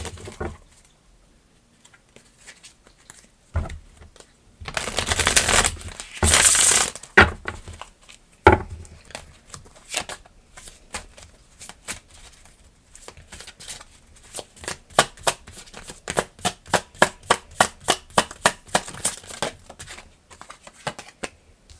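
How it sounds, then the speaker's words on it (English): A deck of playing cards is shuffled close by, with a few bursts of riffling and then a long run of quick, sharp, rhythmic card snaps and flutters. No voices are heard. "That was the shady shuffle."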